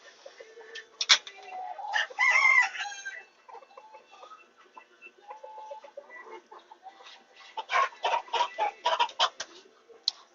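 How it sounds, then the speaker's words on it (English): Chickens and a rooster clucking and crowing close by in a yard, a busy overlapping flock with a drawn-out crow early on and rapid clucking bursts near the end. "We got attacked by the chickens, and we're there on the ground."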